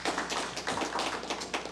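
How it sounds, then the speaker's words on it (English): An audience applauds during a St. Cloud city council meeting, a short, fairly faint patter of claps heard from across the room for under two seconds. "If we could refrain from clapping, please"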